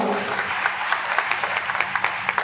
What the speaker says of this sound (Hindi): एक बार जोरदार ताली उनके लिए मैं चाहूंगा